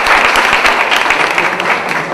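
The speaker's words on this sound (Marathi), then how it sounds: "जोरदार टाळ्या वाजवा" Loud audience applause at a quiz event or prize-giving programme, dense continuous clapping from a crowd filling the whole moment with no voices over it.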